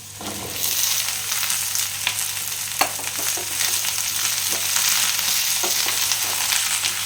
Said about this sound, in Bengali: তারপরে ভেন্ডিটা দিয়ে দিব, ধোয়া আছে কাটা।